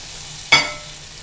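Fried chicken goes into a hot pan with coriander powder for a restaurant-style dry lemon chicken, setting off a sudden loud sizzle that quickly fades to a low, steady crackle, with no talk.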